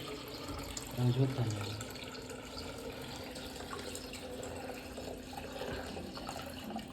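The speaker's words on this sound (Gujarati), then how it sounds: "પચાસ ટકા પાણી ભરાઈ ગયું છે" Water pours and rushes steadily into a tank as it fills, a continuous broadband flow under distant background noise, with a brief louder burst near the start.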